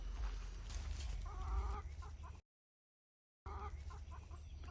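Chickens on a farm cluck in short bursts close by over a low outdoor rumble, with a brief gap of silence partway through.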